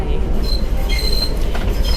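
An Enoden train runs on street-side rails beside road traffic at low speed, with rumbling wheels and thin metallic squeals flickering repeatedly over a continuous low roar.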